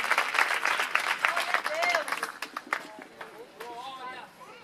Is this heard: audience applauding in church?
yes